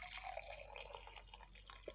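Freshly boiled water poured into a drinking glass, a close, steady trickling and splashing of liquid that runs continuously for about two seconds with no talking.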